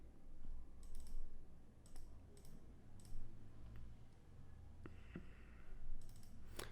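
Quiet, sharp computer mouse clicks come singly and in quick pairs at irregular intervals, close and faint against a soft room background, with no talking.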